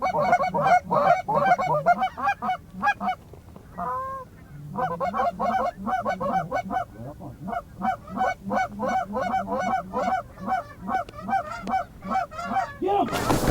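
Snow geese honk constantly in a flock over an Alberta field during an early-season waterfowl hunt, a dense overlapping chorus of nasal calls that stays loud and steady throughout.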